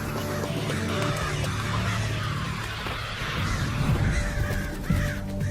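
Crows on a campus caw harshly and repeatedly in alarm, several birds calling close by over a low hum of distant traffic.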